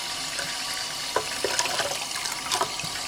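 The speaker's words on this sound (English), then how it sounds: "give it a more water wash" Water splashing and running as a resin 3D print is rinsed after an alcohol bath, a steady wet wash with scattered sloshes and drips, close and moderately loud, with no one talking.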